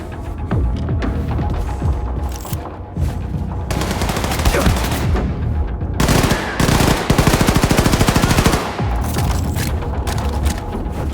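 Automatic and rapid gunfire from the shooter video game Wolfenstein 2, with dual-wielded guns firing loud, dense bursts and a fast machine-gun stretch near the end, running almost continuously with booms and thuds mixed in.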